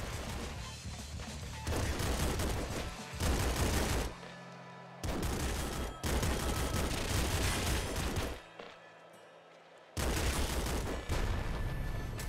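Ion cannon firing in the video game Nuclear Throne, heard as loud, dense volleys of explosive blasts in long bursts with brief gaps between them.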